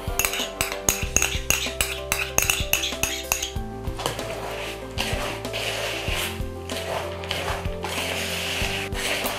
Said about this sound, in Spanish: mezclamos la avellana, el azúcar, la canela y la vainilla